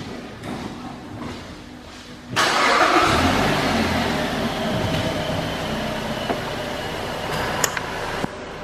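A 2011 Mazda3 Grand with low mileage starts up: after a quiet stretch, the engine catches abruptly and settles into a steady, fairly loud idle with a few faint clicks.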